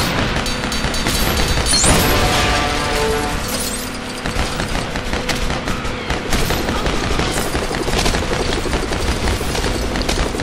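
Rapid gunfire in the Lego Batman 2 video game, a loud, dense volley that runs continuously alongside booms and game effects, with no talking.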